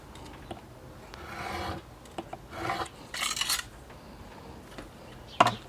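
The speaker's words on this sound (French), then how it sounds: "là je vais recouper avec mon cutter" Craft knife slicing through paper while trimming scrapbook mini envelope embellishments, heard as a few soft rasping strokes of uneven length, close and quiet, ending in one sharper scrape.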